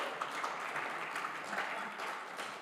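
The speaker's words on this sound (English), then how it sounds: "give this guy a big round of applause" Steady applause from a crowd, a dense wash of clapping that holds at an even level throughout.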